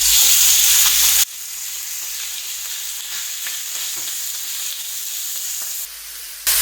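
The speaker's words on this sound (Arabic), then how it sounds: "حطينا شوية زيت وهلا بننزل الستيك." Steak sizzles loudly in oil on a small grill, a dense, even hiss that starts at full strength, settles to a steady sputtering fry and swells again at the very end.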